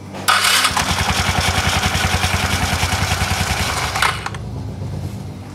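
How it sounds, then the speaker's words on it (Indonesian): A scooter engine with an automatic centrifugal clutch starts up close by and runs at a fast, even putter with a spinning whir, loud and steady for about four seconds before dropping to a softer idle. "begitu mesinnya saya nyalakan, putaran kuras terjadi atau poros engkolnya berputar, diteruskan dengan balting ke bagian puli belakang"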